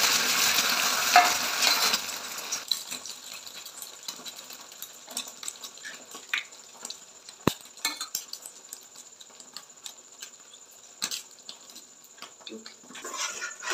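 Two beaten eggs with chopped onion and green chilli frying in a pan as a double egg omelette, a soft steady sizzle with scattered clinks and scrapes of a utensil against the pan.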